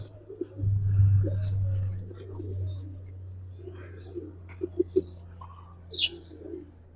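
Giribaz racing pigeons in a loft give a low, close cooing near the start, with softer coos, chirps and faint clicks and movements following, under some quiet talk.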